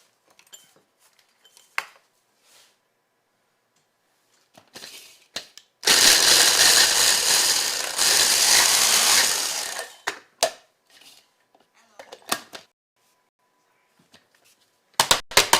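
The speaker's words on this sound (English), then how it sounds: "I'm actually going to take our raspberries and we're going to puree them" Raspberries being pureed in a blender: a steady, dense whirring blend of about four seconds, briefly interrupted, framed by scattered clatter and clinks of kitchen handling before and after.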